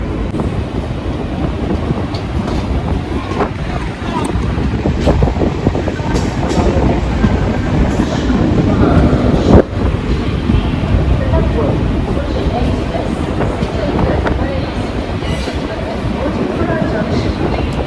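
Continuous rumbling railway noise with rattling and occasional clanks, loud and close, with people talking throughout, inside a general coach of the Tanakpur Express between Mathura and Bareilly.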